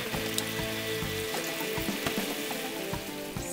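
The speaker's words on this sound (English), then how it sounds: "Now we'll add a bit of stock." Stock poured into a hot skillet of onions, blackberries and apples, producing a loud, steady sizzle with crackling pops throughout, close by and without talk.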